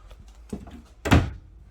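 A pantry door in a 2022 Cougar 33RLI travel trailer swings open with one short knock and rattle, close and moderately loud, after a quiet stretch.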